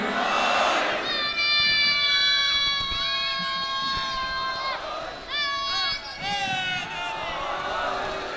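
A large audience at an Islamic scholars' gathering chants slogans in unison, loud, sustained shouted phrases rising and falling in waves, with brief pauses between bursts.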